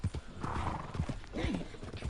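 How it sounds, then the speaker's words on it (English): Horse in the video game Red Dead Redemption 2 with hooves clip-clopping steadily and a whinny rising over them, close and fairly loud. "You are a well-trained horse."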